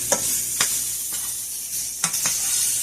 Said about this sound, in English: Now these starting to sear.